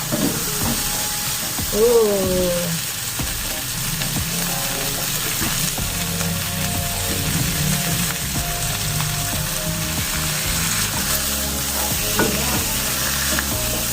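Chicken pieces frying in oil in a nonstick pan for curry grilled chicken, a loud continuous sizzle with occasional stirring scrapes throughout, no talk.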